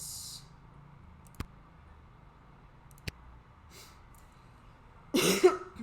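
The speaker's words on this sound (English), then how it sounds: "I'm still going to be coughing." A single burst of coughing near the end, preceded by a couple of sharp clicks over a quiet background.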